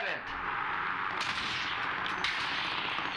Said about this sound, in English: Kill him! Gunshot! Gunshot!